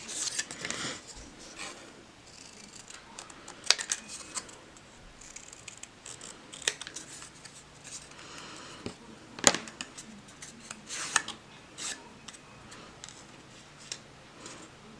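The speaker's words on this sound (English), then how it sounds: "let's cut out Mom." Scissors cut through paper for a handmade watercolor Mother's Day card, giving faint, close, irregular snips and rustles with a few sharper clicks over a quiet background.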